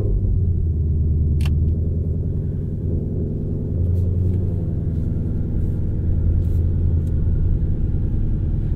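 A 2021 Ford Mustang Shelby GT500 cruises at easy low speed, its engine a steady, close, low rumble throughout, with no voices over it.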